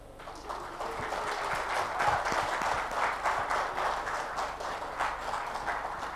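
Sustained applause from a large audience at a Telugu film audio launch, a dense steady wash of clapping that swells slightly and holds for several seconds, with no speech over it.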